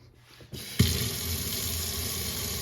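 A sink faucet is switched on and runs hot and cold water in a strong, steady stream, starting with a thump and then a continuous close-up rush into the basin.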